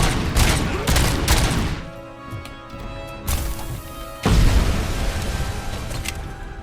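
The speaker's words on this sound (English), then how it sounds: "Ooh, I get to use the turret myself." Rapid turret gunfire in the Robocop: Rogue City video game, loud, dense bursts of shots with a brief lull mid-clip before the firing resumes at full intensity.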